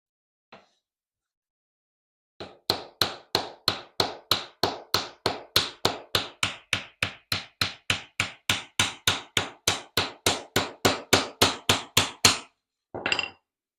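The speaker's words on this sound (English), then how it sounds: "You can try tapping it with a hammer." A hammer taps on a glued wood joint, testing glue cured in cold temperatures, in a fast, even series of about thirty sharp knocks, close and crisp, after a single lone tap and before a brief final flurry.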